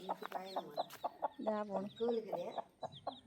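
Chicks cheep and chirp in rapid, high, repeated calls at close range, with no talking.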